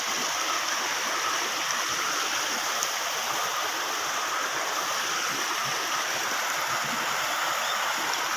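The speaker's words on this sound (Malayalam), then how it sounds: "ആ തോട്ടിൽ നിന്ന് വെള്ളം കുതിച്ചൊഴി ചാടുന്നുണ്ട്" Water rushes down a swollen stream near bamboo groves and a small footbridge, a loud, steady, close roar that continues unbroken throughout with no voices.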